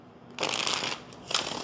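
Tarot cards are shuffled in two close bursts of crisp riffling, a longer flutter followed by a brief pause and a shorter second riffle, with no talk.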